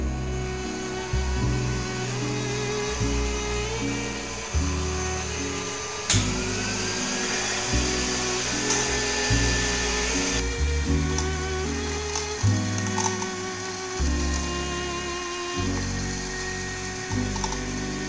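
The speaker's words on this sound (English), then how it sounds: "Use the mixer to whisk the eggs" An electric mixer whisks egg yolks with a tablespoon of flour, a loud steady motor whine with a churning, ratcheting rattle that shifts in pitch as the beaters work, continuous for the whole stretch.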